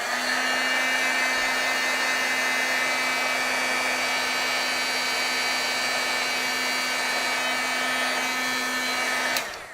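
An embossing heat tool blows hot air to set clear embossing powder, a loud, steady fan whir with a constant hum, running close and unbroken until it switches off at the very end.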